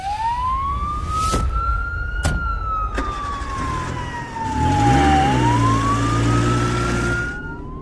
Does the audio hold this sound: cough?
no